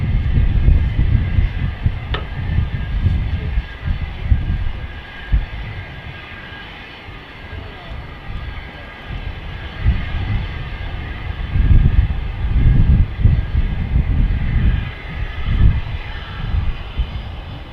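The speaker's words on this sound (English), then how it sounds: "Is someone taxiing out, or is that just the Ryanair making that noise?" Ryanair airliner at an airport, its jet engines droning continuously as it taxis, a steady low rumble rising and falling in strength at a moderate distance with no talk over it.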